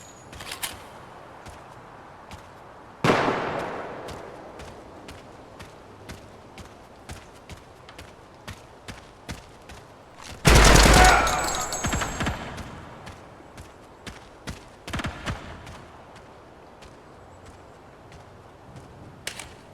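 Gunshots from 5.56 and .30-06 rifles during a weapons test, a few sharp isolated reports spaced several seconds apart with one longer loud burst, over quiet ambient background with faint ticking.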